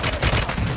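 Gunfire in the Call of Duty video game: a dense, continuous burst of rapid automatic shots, loud and close, with no talk over it.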